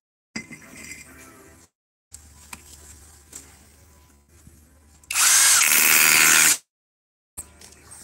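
An INGCO power drill runs in a loud, steady burst of about a second and a half between quieter stretches of handling clinks and tool noise.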